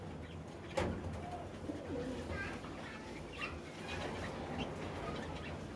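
Rajshahi Giribaz fancy pigeons coo softly in short repeated phrases at close range, with a sharp knock or flutter early on and faint background murmur.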